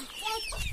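Hens cluck in a henhouse where new chicks have just hatched, a brief close burst of clucking.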